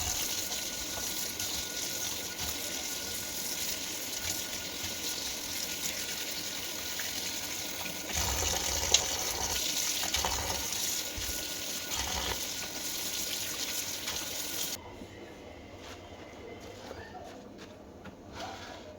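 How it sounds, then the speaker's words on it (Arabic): Steady stream of tap water running over vegetables being washed in a kitchen sink, a continuous rushing gush with brief splashing surges midway, then quieter toward the end. "المهم كان عندي بقى خضار، قلت برضو اغسله واجهزه كده واسيبه ان هو يتصفى"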